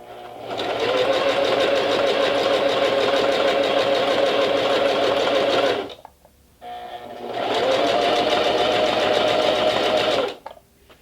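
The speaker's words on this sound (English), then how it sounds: "You can continue sewing." A sewing machine stitches a seam for beginners in two steady, loud runs of rapid needle chatter, each about five seconds, split by a brief pause with the needle left down.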